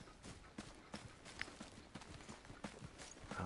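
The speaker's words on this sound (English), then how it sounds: "I hear footsteps." Footsteps from the video game Apex Legends come as a faint, steady series of soft thuds at a walking rhythm, heard over low game background sound.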